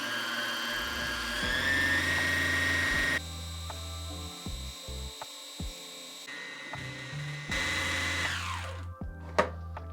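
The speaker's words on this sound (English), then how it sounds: "I'm going to press on the presser foot and it'll start spinning like that" A Juki TL-2010Q sewing machine winds a bobbin, with a steady high motor whine that runs in bursts, stops and starts again, and changes pitch as it spins up and winds down.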